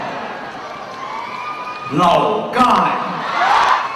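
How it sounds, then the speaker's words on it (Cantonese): A concert audience at the 2010 Unforgettable show cheers and applauds to welcome a guest. The crowd noise swells in two loud bursts with whoops, and a host's amplified voice comes through over it. "希望你嘅掌聲歡迎"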